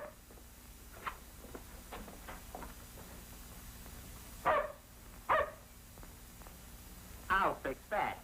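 A dog in a 1937 crime film gives several sharp barks in irregular bursts, a few single yaps followed by a quick cluster of two or three, over a hissy, muffled old soundtrack with faint voices.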